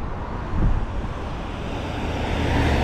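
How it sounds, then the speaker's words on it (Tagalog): Busy road traffic beside a street in New Zealand, with cars passing close by in a steady rumbling wash and one vehicle swelling louder early on. "Daming sasakyan."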